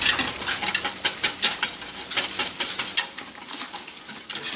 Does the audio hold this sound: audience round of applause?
no